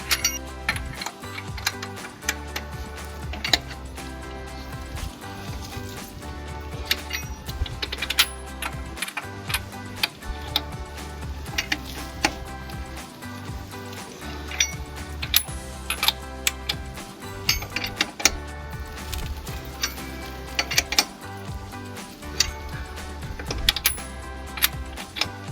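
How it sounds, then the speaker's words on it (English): A wrench snugging lug nuts on a 1994-2014 Mustang fitted with 20mm billet aluminum hub-centric wheel spacers, a close series of ratcheting clicks and metallic turns in short bursts. "go ahead and finish tightening up your lugs, making sure they're nice and snug"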